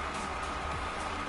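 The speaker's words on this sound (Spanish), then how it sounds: "perdón por el ruido, ya sé. El ventilador de mi compu." Steady broadband whoosh of a computer cooling fan, close and continuous, with no breaks or changes in level.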